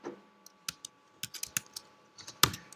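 Irregular keystrokes on a computer keyboard, sparse clicks and short bursts of typing, close and fairly quiet, with no talking.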